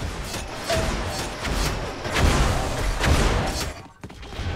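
Shock rifle fire rings out during a 4on4 team deathmatch video game match, with rapid repeated blasts and thuds layered over dense game noise for a few seconds.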